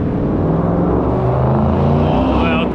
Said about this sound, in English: Wild car accelerating